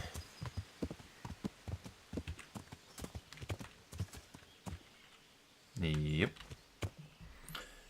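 In the video game Kingdom Come: Deliverance, horse hooves clop in a steady walking rhythm, sharp and fairly close, with a brief horse whinny partway through.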